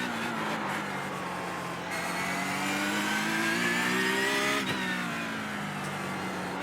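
Porsche Cup race car engine in the iRacing simulator at Summit Point Raceway, a steady loud mid-pitched drone that climbs in pitch as it accelerates, with a brief downshift blip near the end and no talking.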